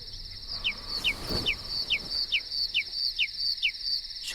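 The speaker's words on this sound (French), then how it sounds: "par la croisée entr'ouverte où se jouaient des rayons de lune, entra la voix d'un rossignol" A nightingale song plays as a sound effect in a French audio drama: a steady high trill with short chirps repeating at a regular pace, heard alone at moderate volume.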